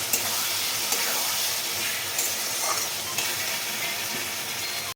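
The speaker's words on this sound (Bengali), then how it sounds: "আমি এবারে আস্তে আস্তে এটাকে নাড়তে নাড়তে হয়ে যাবে" Poppy seed paste cooking with ridge gourd and potatoes in a pan, a steady hissing sizzle with a few soft stirring knocks and scrapes, close and continuous.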